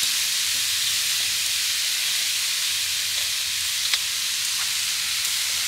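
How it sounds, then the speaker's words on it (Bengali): Grated coconut mixed with sugar cooking in a wok for white coconut naru sweets, with no water added, giving a steady soft sizzle and hiss throughout with a few faint scraping ticks. "চিনি মেশানো নারকেলটা এবার আমি কড়াইতে দিয়ে দিচ্ছি"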